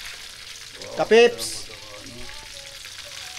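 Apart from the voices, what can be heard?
food frying in oil, sizzling in a pan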